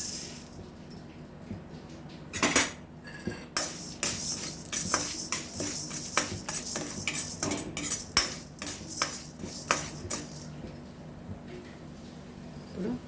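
Dry urad dal stirred in a metal pan for curry leaf and drumstick leaf powder, giving a steady run of close scraping and clinking strokes of spoon against pan with a faint rattle of lentils, no talk.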